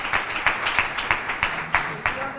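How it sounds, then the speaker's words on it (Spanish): Applause for an artist named Maica at a presentation of bullfighting events in Nerva: a crowd claps in rapid, uneven bursts, moderately loud and close, for a couple of seconds. "Un aplauso para Maica, para la artista."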